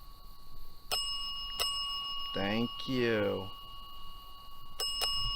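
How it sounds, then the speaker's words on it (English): Bell in a cemetery rings in several sharp, bright single strikes with lingering tones, spaced apart, while a person speaks in between. "That bell for me again?"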